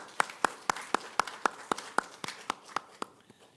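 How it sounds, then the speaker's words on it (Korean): Congregation in a Korean Sunday church service clapping to celebrate members' birthdays: a steady run of about a dozen sharp, evenly spaced claps, fading at the end. "자, 축하의 박수 드립니다."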